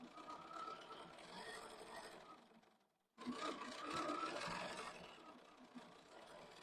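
A domestic sewing machine stitching fabric, motor whirring steadily for about three seconds, pausing briefly to near silence, then resuming a continuous buzzing run of stitches, fairly close.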